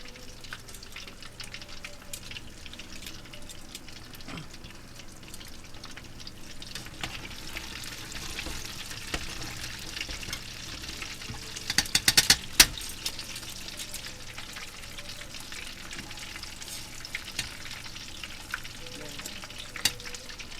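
Steady frying sizzle from a pan of chicken wings cooking in a big pot, a constant hiss running throughout with a brief louder crackle burst near the middle.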